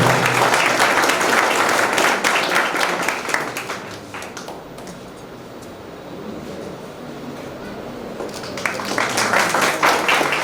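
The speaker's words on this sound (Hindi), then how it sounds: "तालियां बजती रहनी चाहिए।" An audience applauding at a Teacher's Day honour ceremony, sustained dense clapping that swells loud, eases to a softer patter in the middle, then rises strongly again.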